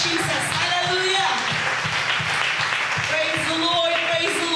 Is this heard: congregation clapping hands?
yes